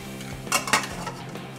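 Lid set back over baati cooking in a pan, two quick metallic clanks close together followed by a low background hum.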